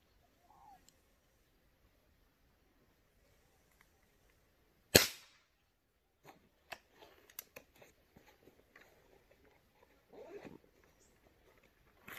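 A single sharp, loud gunshot cracks out during an iguana hunt, cutting through near-silence, followed by scattered faint clicks, rustles and handling noises.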